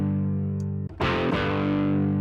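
An electric guitar on a clean preset through an effects unit sustains a held chord with a slight gritty edge, then a fresh strum rings out loud and lets its notes sustain.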